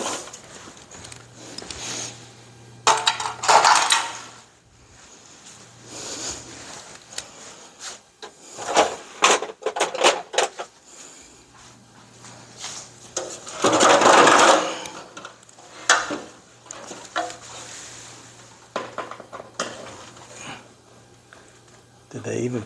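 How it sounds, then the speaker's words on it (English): Mounting screws backed out of LED garage lights fixed into sheetrock, heard as short, uneven bursts of whirring and scraping clicks scattered between frequent stretches of talking. "Let me take those screws out."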